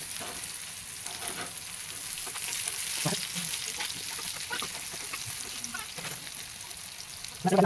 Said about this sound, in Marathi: पाच मिनटं पलटी करून आपण फ्राय करूया